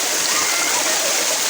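Steady rushing water from a small but very tall waterfall of roughly 20 meters in Palawan, a continuous broadband splash and stream noise filling the whole moment with no clear breaks.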